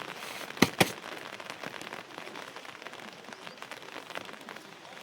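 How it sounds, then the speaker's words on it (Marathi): Rain pours steadily on a surface with a constant hiss, and two sharp loud cracks come early before the downpour continues alone. "तिकून असा असा असा पाऊस लय बेस्ट चाललाय"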